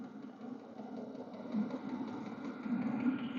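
A kerosene heater running at its minimum setting inside a van, giving a low, steady hum with a soft mechanical whir, quiet and close with no talking.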